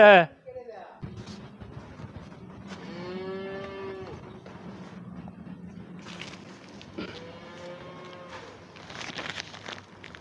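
Cattle on a farm moo in long, drawn-out calls, several lowing one after another at moderate distance, with a sharp bleat-like call at the start and background farm noise throughout.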